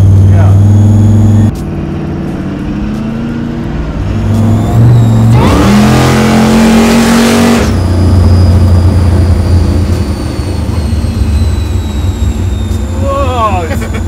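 A daily-driven 1200 hp Volvo drag car launches off the trans brake at full throttle from 5,000 RPM, its engine roaring and revving loudly in surging bursts, with voices talking over it.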